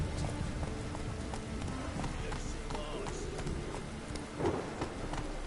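Horse galloping in The Witcher 3, a steady rhythmic clip-clop of hooves running over a rough, noisy background through the whole stretch.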